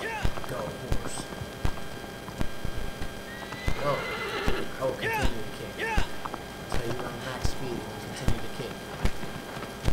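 A horse in Shadow of the Colossus whinnies repeatedly while its hooves clip-clop at a rhythmic gallop, close and clear, with a player talking over it.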